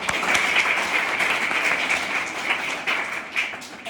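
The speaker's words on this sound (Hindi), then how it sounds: "वेरी गुड, ताली बजाओ।" A classroom of children at a government middle school in India claps together in a sustained round of applause, dense and steady throughout before thinning slightly at the end.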